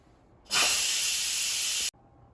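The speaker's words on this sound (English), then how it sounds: "so let's quick release the steam" An Instant Pot pressure cooker's quick steam release bursts out in a sudden loud hiss, holding steady for about a second and a half before cutting off abruptly.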